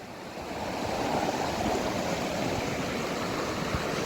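A Konkan river in flood after heavy monsoon rain rushes in a dense, continuous roar of water, close and steady.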